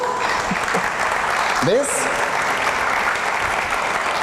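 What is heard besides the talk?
audience applause in church sermon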